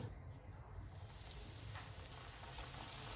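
A sushi roll deep-frying in hot vegetable oil gives a faint, steady sizzle and crackle that runs without a break for a few seconds.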